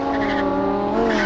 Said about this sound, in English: The Huracan not only sounds like a race car